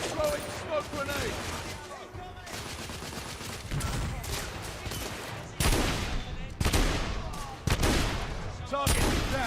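Shotgun blasts fire in bursts during a gunfight in The Order: 1886, sharp loud reports separated by brief pauses, with other gunfire and battle noise underneath.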